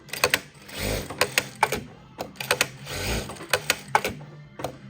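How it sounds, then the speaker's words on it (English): A Durkopp Adler industrial sewing machine stitches a back tack, with short rapid bursts of needle clatter separated by brief pauses and sharp mechanical clicks, loud and close with no talking. "Now I'm only going to get 2 stitches forward, 2 stitches back on the beginning back tack."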